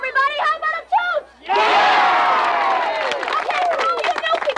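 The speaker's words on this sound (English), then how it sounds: "The chooch is like our private cheer." A group of people shouting a cheer together, a sustained loud burst of many voices that follows some singing and then breaks into scattered shouts and clapping-like noise.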